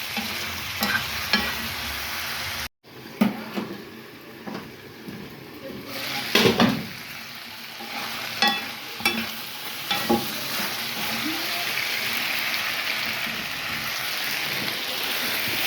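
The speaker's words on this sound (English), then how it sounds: "Then I go back and stir it again." Pork curry being stirred in a pot, with soft scraping strokes and a steady sizzling simmer running underneath, close and fairly quiet, no talk.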